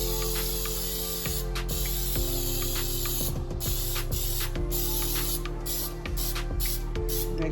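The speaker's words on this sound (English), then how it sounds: "So let's just spray that up." Pam baking spray hisses onto a cake pan in repeated short bursts, loud and close, with clicks of the nozzle between sprays and no talking.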